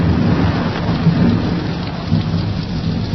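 Steady heavy rain pours with low rolling thunder underneath, a continuous thunderstorm effect in a radio advertisement, dense and loud with no voices over it.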